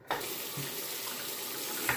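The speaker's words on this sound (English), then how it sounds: "Let the water out of the sink here." Water from a bathroom sink runs and drains in a steady, close rushing stream that stays even throughout, with no voices.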